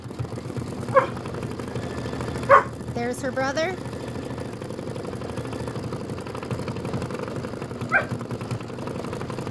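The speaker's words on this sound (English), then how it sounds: "I have 2 very vocal dogs" Indoor dogs let out a few sharp barks spaced several seconds apart, rising over a steady machine hum, with someone talking in between.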